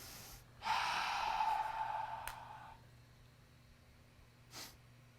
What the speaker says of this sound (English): And I'm taking a deep breath.